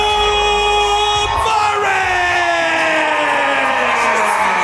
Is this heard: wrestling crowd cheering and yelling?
yes